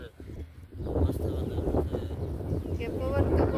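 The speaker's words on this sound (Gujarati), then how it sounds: "પવન તો બહુ છે" Strong wind buffets the microphone on a rooftop, a steady roaring gusty rush that swells after the first second and stays loud, with voices talking underneath.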